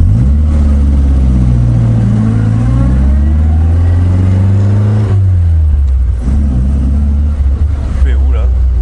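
An Austin Healey Sprite Mk1 Frogeye pulling away and driving, its engine close and loud, revving up through rising tones and then settling, with people talking over it.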